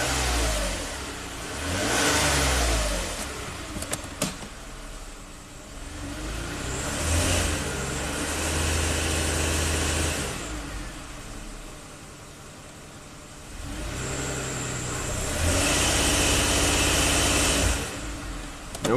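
A 427k-mile Toyota engine with a lean fault code runs and revs in repeated bursts, its pitch rising and falling loudly and close, easing back toward idle between pulls.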